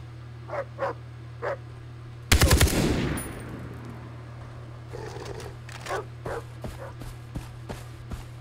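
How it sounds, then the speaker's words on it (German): Dogs in Far Cry 3 bark in short separate yelps, then a sudden loud burst of rapid gunfire cuts in and fades, followed by more spaced barking at moderate distance. "Diese Hunde nerven auch manchmal ein bisschen."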